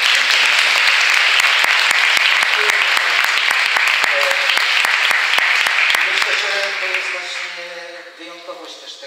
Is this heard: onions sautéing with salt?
no